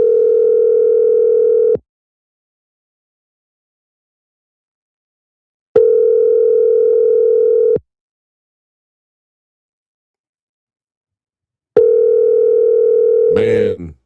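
Outgoing phone call ringback tone sounding in three long, steady purrs of about two seconds each with silent gaps between, loud and close, unanswered, with a brief burst of noise cutting in at the end.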